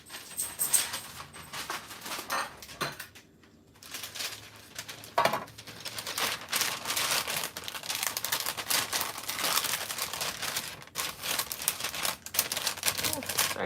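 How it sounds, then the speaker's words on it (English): Parchment paper laid on a sheet tray crinkling and rustling while cake pops are being set out, a busy close crackle of irregular crunches and taps running continuously with a short pause, some voice present. "Sorry for all the crinkly noises."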